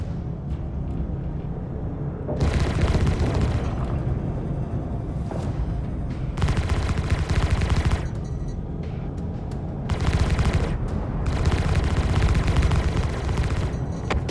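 Spaceship weapons fire in Star Citizen Alpha 4.9: loud sustained bursts of rapid gunfire repeat in several long volleys over a constant engine rumble, with short gaps between bursts.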